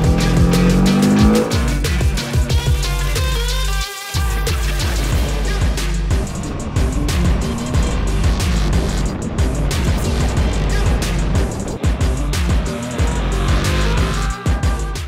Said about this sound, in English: let's climb up the mountain and let's see what it can do.